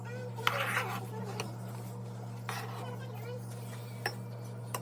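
A spoon stirs ground beef and rice in a pot, giving a few soft scraping strokes and sparse light clinks of utensil on metal over a steady low hum.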